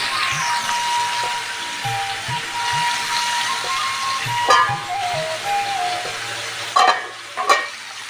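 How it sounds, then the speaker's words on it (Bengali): Pointed gourd (potol) fries in a pan with a continuous soft sizzle and crackle, with occasional dull thumps, and a few louder scraping clinks come near the end. "এখানে ভাজাভুজির জন্য পটল ভাজাও বসে দিয়েছি"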